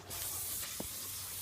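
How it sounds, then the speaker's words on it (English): A steady close-up aerosol hiss sprays continuously onto a YJ Jeep Wrangler brake drum to clean it, with a low hum underneath and a faint click partway through. "I'm going to spray the drum too."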